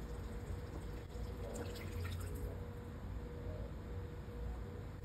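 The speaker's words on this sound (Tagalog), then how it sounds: "Tapos, lalagyan ko na rin siya ng konting tubig." Steady trickling and splashing of a little water poured into a pot of coconut-milk Bicol Express, continuous and close, with no talking.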